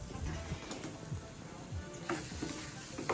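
Stirring a coconut mixture in a cooking pan, soft scraping strokes and faint sizzling heard close over a steady background hiss.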